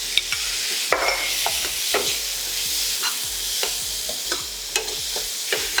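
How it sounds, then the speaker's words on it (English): Chopped tomatoes frying in a pan of spiced oil while a spoon stirs them, a steady close sizzle broken by repeated scraping clicks and taps of the utensil against the pan. "I'm going to add the chopped tomatoes."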